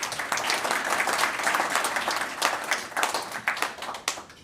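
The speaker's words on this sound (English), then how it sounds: "Let us give him a befitting round of applause." Audience at a Kenya–Saudi Arabia business forum breaks into sustained applause, a continuous wash of many hands clapping, fairly loud and even throughout with no speech on top.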